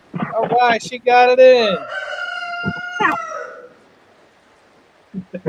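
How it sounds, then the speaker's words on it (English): A rooster crows loudly and close by in one long, drawn-out call at a fishing tournament outdoors, and a person speaks briefly before it and again afterward. "you'll hear that rooster crow all the time."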